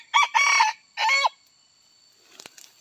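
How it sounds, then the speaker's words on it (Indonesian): A jungle fowl rooster crows close by in short, sharp bursts, three quick harsh syllables, then falls silent before faint rustling and clicks. "Ayam hutan pecah ruyung"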